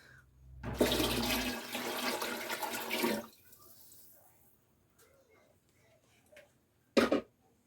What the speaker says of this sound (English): I'm going to go ahead and add water to the onions